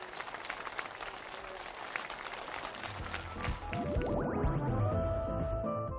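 Applause from participants at a housing permit handover ceremony in a new rural village, a dense wash of clapping that gives way to music partway through.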